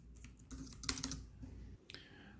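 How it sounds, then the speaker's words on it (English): Keys clacking on a Samsung Chromebook 3 laptop keyboard, a quick irregular run of soft presses with a few sharper, louder taps near the middle and one more toward the end, close and alone. "There's not a lot of depth to when you press the keys, but it feels, the touch at least feels pretty good."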